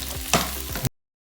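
Mixed vegetables frying in oil in a pan for a vegetable stew, a brief close sizzle with a couple of stirring scrapes, then sudden silence.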